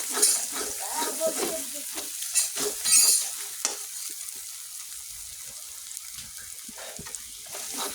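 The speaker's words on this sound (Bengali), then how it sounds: "চিকেনটা দিয়ে দেব পেঁয়াজি দিয়ে" Chicken pieces go into frying onions in a pan for chicken biryani, loud sizzling and stirring at first that settles into a quieter, steady fry.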